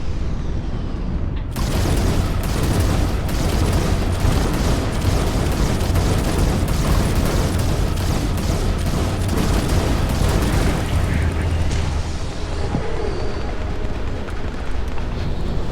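Spaceship weapons in the video game Starfield fire in a loud, dense barrage of booming blasts and rumbling bursts that runs nearly continuously throughout, with no pause in the onslaught.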